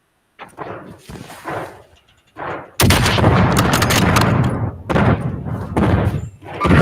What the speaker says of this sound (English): Our teammate using a grenade launcher?